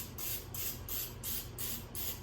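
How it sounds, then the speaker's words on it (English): Six short hissing bursts from an olive oil spray can onto tofu on a cookie sheet, evenly spaced in a quick rhythm, close up against a low background hum. "I'll take olive oil spray each one."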